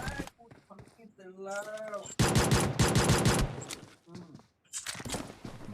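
Gunfire in the mobile battle royale game PUBG Mobile, a sustained automatic burst lasting over a second, with players talking before and after it.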